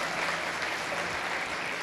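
A crowd at a swine showmanship event gives steady, continuous applause for the champion 8-year-old, a dense wash of clapping heard from within the audience.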